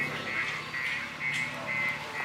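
Ducks of several varieties quack on a farm in Chavakkad, Thrissur, a steady run of nasal calls overlapping at moderate distance over continuous outdoor background noise, with no talking.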